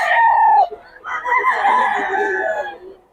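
A rooster crows loudly and close, a drawn-out call, followed by busy clucking and cackling from several chickens.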